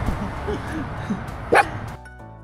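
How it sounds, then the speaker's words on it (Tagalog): A dog gives a single short, sharp bark amid quiet indoor background noise, heard fairly close partway through. "Snoopy, kumakahol pa eh."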